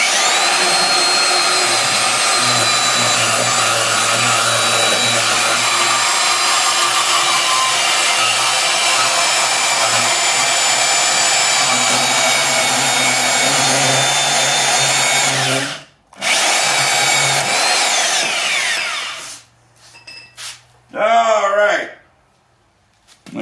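A power saw cutting in a workshop whines steadily and loudly for about fifteen seconds, then cuts out with a short burst before spinning down and a few brief restarts near the end.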